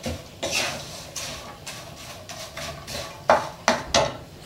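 Pork cracklings for a Thai chili dip are stir-fried in a pan over medium-low heat, giving a run of scraping, clattering utensil strokes against the pan with several sharper knocks near the end, close and fairly loud, with no talk.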